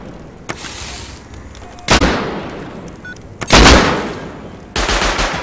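Automated turrets fire in Rust, sending out three loud, separate bursts of gunfire, each with a sharp onset and a decaying tail, over a quieter background of faint distant shots.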